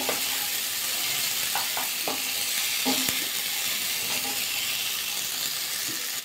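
Steady sizzling of cauliflower and carrot frying in a pan, with a few soft clinks and scrapes of stirring, continuous and close.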